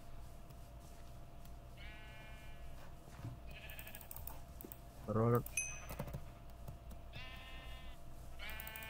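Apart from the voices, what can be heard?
sheep bleating in Minecraft video game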